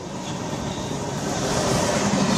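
Indian Railways passenger train running along the tracks, heard from inside a coach as a steady loud rumble with continuous rattling wheel clatter and broadband rushing noise throughout, no voices.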